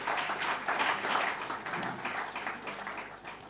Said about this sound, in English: I think we can give him another round of applause.